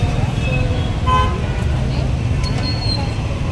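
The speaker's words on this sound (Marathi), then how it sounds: "ट्रॅफिक जाम झालेलं आहे रोड." Heavy road traffic stuck in a jam near Ovala in Thane, with loud rumbling engines throughout and several short car horn toots rising over it, while voices talk in the background.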